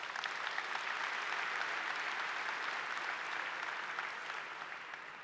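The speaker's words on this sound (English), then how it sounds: "let's give a round of applause for Jamf Threat Labs." Large keynote audience at a tech conference claps in a smooth, continuous wash of applause, fairly distant and soft, holding steady before easing slightly toward the end.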